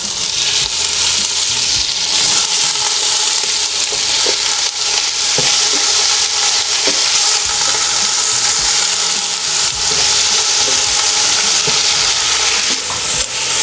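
Fresh chicken pieces for Filipino adobo hit a hot pan and sizzle loudly, a bright, steady frying hiss that lasts throughout with occasional stirring taps and no talking.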